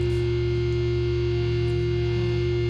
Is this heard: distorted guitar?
yes